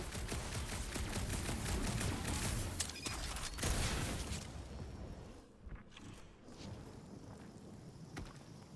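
Heavy gunfire from the video game Guardians of the Galaxy, a loud, dense stretch of rapid shots and blasts that eases into quieter scattered bursts and rumbling.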